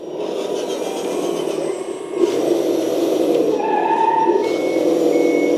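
A steady synthetic engine drone from a DIM CAT 950 1/12-scale metal hydraulic RC loader hums continuously at close range, with a faint higher electronic tone sliding in partway through.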